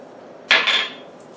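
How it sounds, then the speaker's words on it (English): A utensil knocks and scrapes against a pot while cinnamon and salt are stirred into butterscotch dip, two quick clattering strikes in a single brief burst over a quiet background. "I'm going to stir in the cinnamon and the salt"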